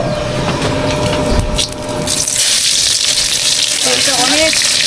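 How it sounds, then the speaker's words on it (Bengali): Chopped onions go into hot oil for a village-style potato curry; after some clattering and bubbling, a dense sizzling burst swells partway through and keeps crackling up close. "সেজন্য এখানে পেঁয়াজ কেটে নিয়েছি, তেলের ভিতরে দিয়ে দিব।"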